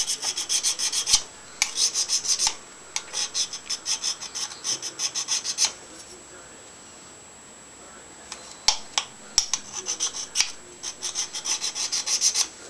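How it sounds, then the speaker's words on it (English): Blade of a Felco 801 electric pruner being honed with its sharpening stone, close rhythmic rasping strokes in quick bursts, a pause of a few seconds mid-way, then more stroking. "The sharpening stone that comes with a pruner works really good."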